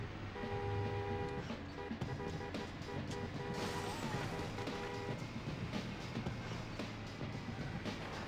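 Car horn honking in the N64 racing game Beetle Adventure Racing, short tonal toots repeating over engine roar and crashing game noise.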